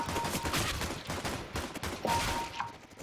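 Rapid gunfire from the Counter-Strike: Global Offensive video game crackles in dense, overlapping bursts of shots throughout, loud and close, with no talking.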